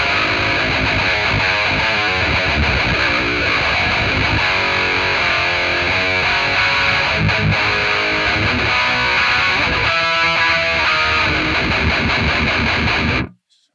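A loud, saturated electric guitar tone through a Yamaha amp preset rips through rapid shredding runs and crunchy chords, sustained throughout before stopping suddenly.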